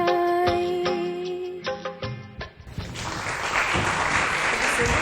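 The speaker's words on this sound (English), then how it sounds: "Ladies and gentlemen, can we have a bigger round of applause?" Applause from an audience at a music show for a young singer swells up loud and dense after the last notes of a song fade, filling the rest of the moment as a steady roar of clapping.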